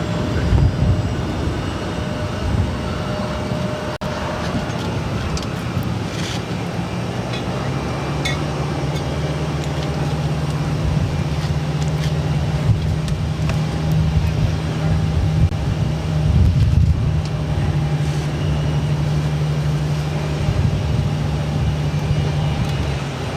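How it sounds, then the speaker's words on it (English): A Delta Connection Embraer E175 jet takes off at Boston Logan, its engine roar building into a sustained low rumble with a steady drone that swells and holds across the whole stretch. "This is Delta Connection 5726 taking off to LaGuardia on the E175"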